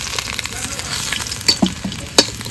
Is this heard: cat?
no